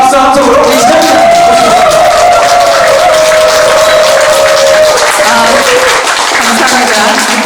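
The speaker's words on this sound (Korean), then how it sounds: "이 시간 큰 박수 함성으로 우리 시작합니다" Loud applause and cheering from an audience opening a sand art performance, with music playing over the crowd the whole time and voices mixed in.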